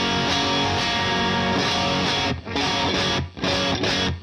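A bright, gritty electric guitar through the top boost channel of a UAFX Ruby '63 amp pedal rings out in sustained chords with a few short breaks, loud and close with crunchy overdrive.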